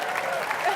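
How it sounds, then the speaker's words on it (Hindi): Applause from a studio audience greeting comedian Johnny Lever on a Colors TV comedy show stage, a dense steady wash of many hands clapping throughout with no break. "तालियां हो जाएं जॉनी लीवर के लिए"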